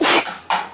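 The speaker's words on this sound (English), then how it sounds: "Why am I sneezing so much?" A person sneezes twice in quick succession, close and loud, two sharp bursts about half a second apart with no talking.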